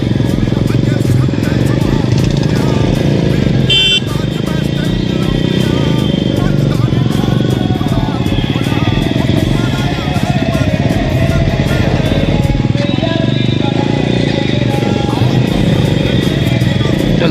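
A Suzuki Gixxer SF 155 motorcycle with a modified exhaust rides steadily, its loud, close engine drone continuous throughout with slight rises and falls in revs and wind rumble.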